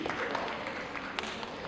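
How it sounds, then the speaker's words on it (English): A studio audience at a Tamil talk show cheers and claps in response to a doctor's call, a faint, distant, steady wash of crowd noise with a few sharper claps standing out. "Give me a cheer if anybody is lifting weights."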